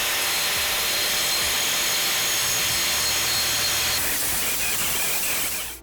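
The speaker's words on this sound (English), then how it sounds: "Let's see how the grinding disc performs on this metal." A grinding disc works on metal with a continuous, loud, close harsh whine and rasp that holds steady, changes slightly partway through, then cuts off at the end.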